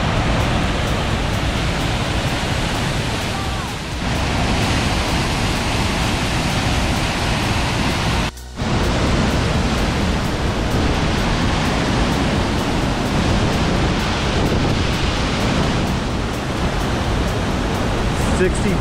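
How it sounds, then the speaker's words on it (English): A loud, dense roar of rushing water pours without pause, broadband and close, with only a momentary dip in the middle, from the 64-foot Glen Ellis Falls in Gorham, New Hampshire, in spring. "64 feet of raging monster waterfall."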